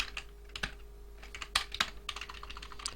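Computer keyboard typing in short irregular bursts of crisp key clicks, close and fairly quiet, with no talking.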